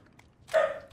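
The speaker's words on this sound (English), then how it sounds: "Sorry if you can hear my dogs in the background." Dogs barking in the background of a home recording, one short bark burst near the end of the moment, moderately loud and somewhat distant indoors.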